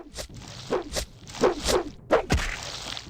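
A few swishing swings and dull thwacks in quick succession as a weapon strikes a creature in Morrowind, close and moderately loud.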